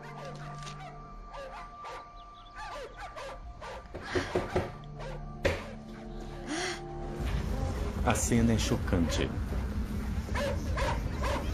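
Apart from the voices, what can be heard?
dogs barking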